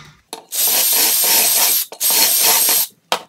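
A drill bores holes through a Beadlock joinery jig in two long, loud, close bursts of steady rasping grind, separated by a brief pause and followed by a short final burst.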